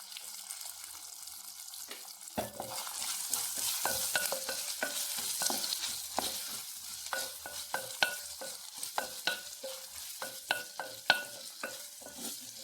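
Vegetables sautéing for a vegetable biryani: carrot and green chillies sizzling in a hot pan, with a steady close fry and repeated sharp scrapes and clacks of a spoon stirring throughout.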